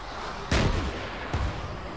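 A rocket launcher firing with back blast in the Arma 3 video game: two loud, booming blasts about a second apart over constant background rumble.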